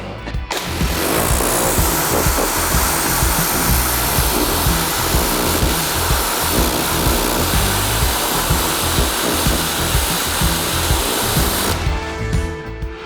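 A pressure washer nozzle sprays a watercraft while preparing it for spring, a loud steady hissing rush over a pulsing pump drone that runs unbroken for about eleven seconds before cutting off.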